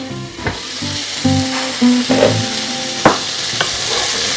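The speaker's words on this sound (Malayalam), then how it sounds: "ഇളക്കി കൊടുക്കാം." Chicken pasta being stirred in a pan after simmering covered, with spoon scrapes and clinks knocking against the pan over a soft sizzle, close and irregular.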